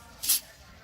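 A single short hiss of spray grease is applied to a Gol G5 car door, with quiet background around it.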